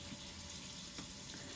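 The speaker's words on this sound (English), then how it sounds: "We're gonna open this faucet so we can release some air so it's completely filled." Water runs from an opened faucet while a mini electric hot water heater is being filled to release air, a soft steady hiss with a small click partway through.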